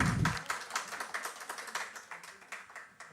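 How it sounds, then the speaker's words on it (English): Scattered, thin clapping from a modest audience at a conference session, a quick burst at the start that fades into light, uneven claps. "May you have a round of applause, please?"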